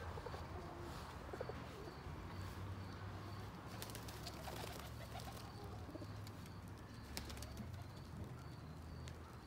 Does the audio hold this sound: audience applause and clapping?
no